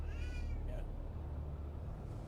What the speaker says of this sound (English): What's up, cat? You're fine.